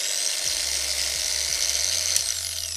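A Zubr Professional 125 mm corded angle grinder with speed regulation runs close by, giving off a steady, high-pitched whine that holds continuously without load.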